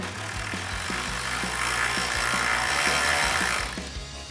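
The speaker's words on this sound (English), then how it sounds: "we're gonna lay our brace onto the new grill and start threading in our screws" Screws are run into a grille brace on a 2009-2014 Ford F-150 replacement grille, heard as a sustained close whir from a power driver with a faint repeating ticking underneath that stops abruptly near the end.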